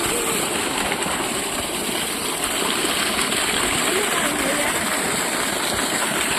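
Water of a stream flows steadily in a continuous loud rushing wash, close and unbroken throughout.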